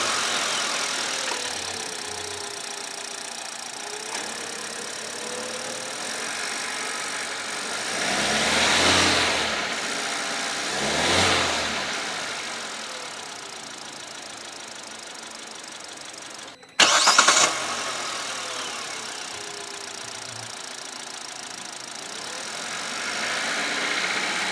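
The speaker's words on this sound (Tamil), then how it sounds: "ஸோ என்ஜினோட ரிஃபைன்மெண்ட் லெவல்ஸ் எப்படி இருக்குது அப்படின்றத பார்த்துருப்பீங்க" A car engine idles steadily and is revved twice in smooth swells, then settles back to idle, with a brief sharp burst near the end, heard up close and without talking.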